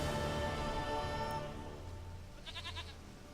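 A goat in The Witcher 3 gives one short, trembling bleat near the end. It is fairly faint and sits over steady outdoor game ambience with soft music, and no one talks.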